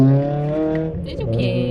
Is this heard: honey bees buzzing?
no